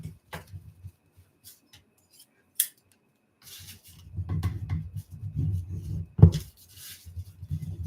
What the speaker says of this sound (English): then we're going to continue folding and burnishing